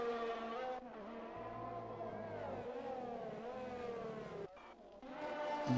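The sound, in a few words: F1 race cars racing in a racing video game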